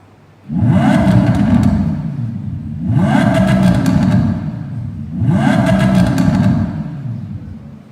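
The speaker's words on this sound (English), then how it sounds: "you can hear a deeper sound thanks to the introduction of titanium intake valves and a new Super Sport exhaust system" A 2019 Lamborghini Huracán EVO's naturally aspirated engine with titanium intake valves and a Super Sport exhaust revs hard three times in a row, each rise roaring up with a deep growl and easing back between bursts.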